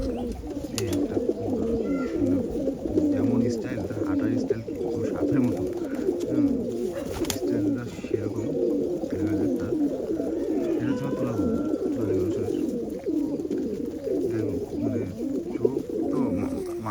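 Domestic pigeons of an old Khulna high-flying breed cooing repeatedly in a dense, rhythmic, throaty chorus close by, continuous throughout with a faint background hum.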